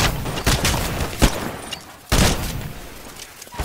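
Titanfall gameplay with a smart pistol: sharp bursts of gunfire crack loudly and repeatedly, with a couple of heavier volleys standing out over a busy, noisy background.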